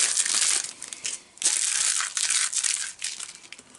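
Packing tape pulled and peeled off a Days Gone collector's edition box, a close, loud crinkling and tearing that runs in several long pulls with brief pauses between them.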